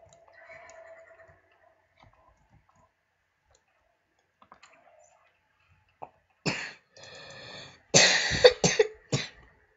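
A few close coughs and throat noises come in short bursts near the end of a mostly quiet stretch, preceded by faint clicks and soft game sounds.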